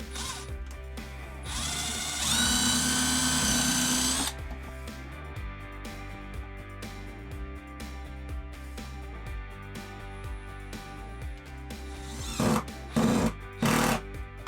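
A power drill drives screws to mount a battery heater pad on the side of a van's lithium battery box, one loud sustained whir near the start followed by a few short bursts toward the end amid quiet workshop rattles.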